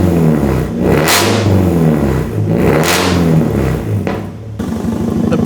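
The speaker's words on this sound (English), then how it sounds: "Car is getting up to temp, but it is obnoxiously loud. It's just headers and then straight pipe." A Nissan 240SX with headers and straight-pipe exhaust revs loudly and harshly, climbing and falling through repeated throttle blips before settling into a rough, pulsing idle close by.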